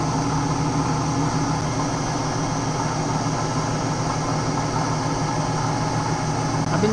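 A milling machine powered through a phase converter, spinning steadily with a loud, even hum and motor drone that stays constant throughout, with no talking.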